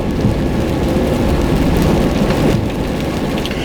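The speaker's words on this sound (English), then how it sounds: "I can't stand the rain." Heavy rain pours down in a dense, constant hiss, loud and close throughout with no break.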